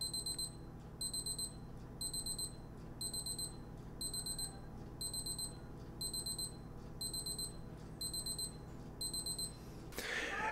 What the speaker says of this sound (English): And the alarm goes for 20 seconds.